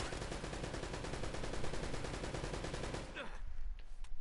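Rapid gunfire from the video game Uncharted: Drake's Fortune, a dense sustained burst of shots that cuts off abruptly into quieter game ambience near the end.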